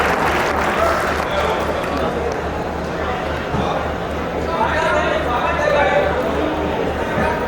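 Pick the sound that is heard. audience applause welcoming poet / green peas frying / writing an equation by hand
audience applause welcoming poet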